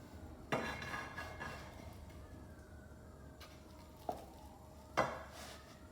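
A knife cuts a chicken, feta and spinach gozleme into pieces, giving three sharp clacks against the board with quiet kitchen background between them and no talking.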